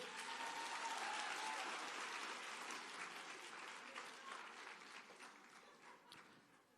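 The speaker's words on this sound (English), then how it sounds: "A round of applause for Trish." Sustained audience applause at the closing ceremony of the Africa Science Buskers Festival, a dense wash of clapping from a large crowd that stays strong and slowly tapers over several seconds, with no voices over it.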